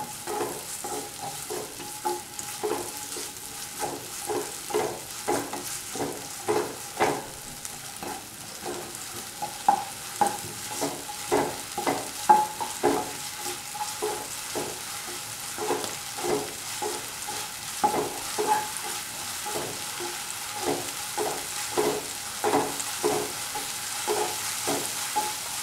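Onion, garlic and ginger sizzle and fry in a pan with salt while being stirred, a steady crackle broken by repeated rhythmic scraping strokes of the spoon, close and moderately loud, with no talking.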